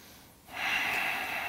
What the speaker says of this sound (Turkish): Derin nefes alıp ver.